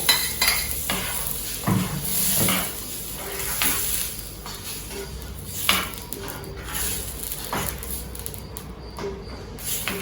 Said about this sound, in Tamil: ஒரு 2 நிமிஷம் அதை கொதிச்சா போதும்